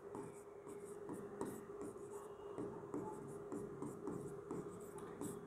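Pen or pencil writing on paper while noting the southern Indian states: steady, faint scratching strokes with small rhythmic pauses, quiet and close, no one speaking.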